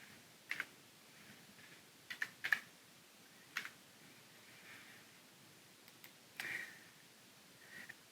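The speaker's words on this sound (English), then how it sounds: "So now I'm going to type in the passcode I was sent." Several sparse, faint keystrokes on a computer keyboard as a passcode is entered, isolated clicks in small clusters against quiet room hiss.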